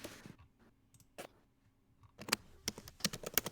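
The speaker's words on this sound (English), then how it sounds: "The furious sounds of an Ehri typing" Rapid typing on a computer keyboard, close and crisp: a few scattered key clicks at first, then a quick burst of dense clacking near the end.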